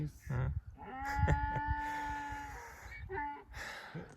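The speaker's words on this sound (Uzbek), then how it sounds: "Shu yerda ham eshak ovozini eshitamiz." A donkey brays in one long, sustained, strained call with a stepped, harmonic tone, fairly near, with people talking before and after it.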